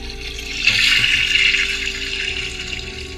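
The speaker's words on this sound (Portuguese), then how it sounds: "Era da descarga." A toilet flushes in the horror game The Baby in Yellow, a rising rush of water swelling, then draining off gradually over a few seconds with no talk.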